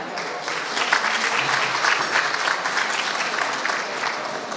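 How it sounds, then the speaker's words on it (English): A large crowd at a community welfare gala applauds steadily and loudly, dense clapping sustained throughout without a break. "So a big applause for that."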